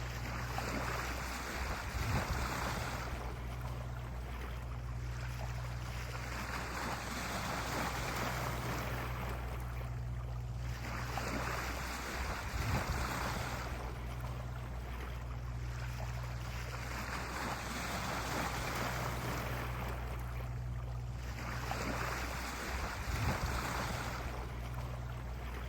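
A sailboat cruises at about 3.5 knots in light following wind, with a steady wash of water and wind all around. Soft surges rise and fall every few seconds.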